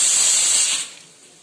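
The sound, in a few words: cumin seeds sizzling in hot oil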